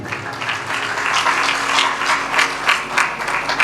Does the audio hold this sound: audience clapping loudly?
yes